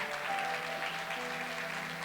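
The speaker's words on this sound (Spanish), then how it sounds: "Dan un fuerte aplauso a Vale." Youth camp group applauding a speaker, a faint, steady patter of many hands clapping at a distance, with a low sustained tone running underneath.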